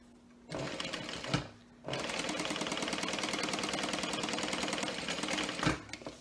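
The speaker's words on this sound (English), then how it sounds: "So I'm going to go ahead and baste my flap on." A sewing machine bastes a fabric flap in two runs: a brief burst of stitching, a pause, then a longer steady rapid mechanical chatter that stops near the end, close and clear.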